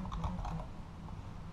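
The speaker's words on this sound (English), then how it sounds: "The portal only listens to the words you give it with your keyboard." Keyboard typing sounds inside a video game, rendered as a quick run of clicky keystrokes in the first half-second and then fading into a low rumbling background with no speech.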